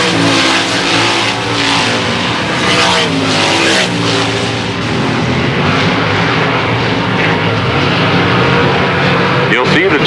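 Several race cars roar past on a track during a heat race, a loud, sustained engine drone that swells and fades as they pass close by, with an announcer talking over it.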